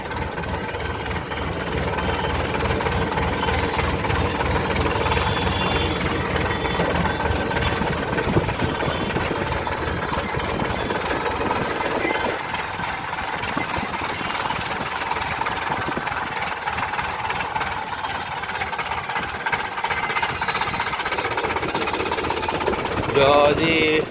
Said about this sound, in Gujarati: આપણે અનિલભાઈનું ટ્રેક્ટર જો ભરાય હવે.